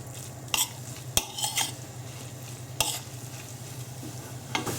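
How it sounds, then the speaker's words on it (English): Fake steak stirred in a hot pan with Worcester sauce cooking off, a steady close sizzle broken by several sharp utensil scrapes and clinks against the pan. "I'm just going to stir it, and at this stage I'm just going to turn it up a little bit so that Worcester sauce is evaporated"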